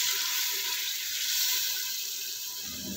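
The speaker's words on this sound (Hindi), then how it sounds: "अब मैं इसको पानी का छिट्टा लगाने लगा।" Water is splashed onto a cooking pot on the stove, giving a steady loud hiss and sizzle that carries on unbroken throughout with no talking.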